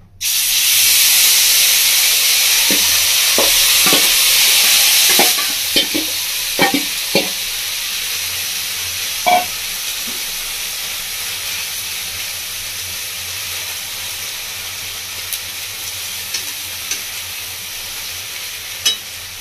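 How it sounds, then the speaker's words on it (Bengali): Sandesh sweet goes into a pan of hot ghee: a loud, bright sizzle bursts at once, fades after about five seconds into a softer steady hiss, and a few sharp clicks of a spatula scraping the pan follow. "ঘিটা খুব ভালোভাবে গরম হয়ে গেছে। এবার সন্দেশটার মধ্যে দিয়ে দিচ্ছি।"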